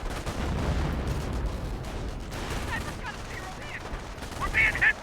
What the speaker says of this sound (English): Oh, another good hit there with the howitzer.